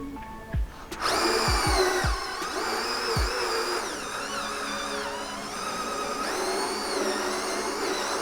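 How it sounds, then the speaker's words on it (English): A power drill fitted with a scrub brush attachment whirs steadily against carpet or car floor mats, starting after a few knocks and running as a loud, continuous whine with slight pitch wobbles as the brush works the fibres. "we use the drill and we work it into the carpet"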